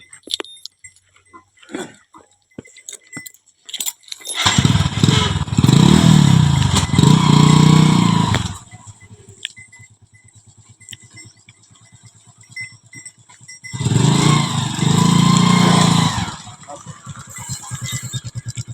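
A motorbike engine revs loudly in two long bursts, one about four seconds and a shorter one later, with quieter idling and faint clatter in between.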